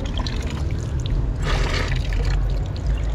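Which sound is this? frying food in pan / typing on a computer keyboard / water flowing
water flowing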